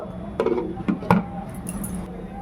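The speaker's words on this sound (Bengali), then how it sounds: "একটু ঢাকনা দিয়ে বন্ধ রাখবো" A metal lid settles onto a cooking pot where spinach, garlic and green chilies boil for palak paneer, giving a few sharp clinks and knocks over a low background hum.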